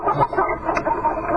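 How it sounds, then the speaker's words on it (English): Chickens clucking close by, a brief continuous burst of busy, overlapping clucks filling the short moment. "Oh, I gotta get these chickens out of here."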